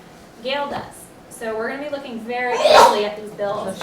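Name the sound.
sneeze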